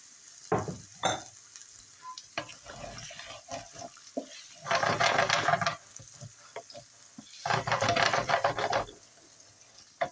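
Omelette frying in olive oil in a pan, bursts of sizzling with stirring and clattering scrapes in between, close and moderately loud.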